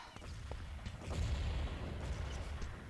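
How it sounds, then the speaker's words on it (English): Repeated grenade blasts in the Urban Terror first-person shooter, heavy low booms and pops arriving in a dense, continuous barrage of explosions with rumbling aftermath. "A lot of grenade spam at the moment"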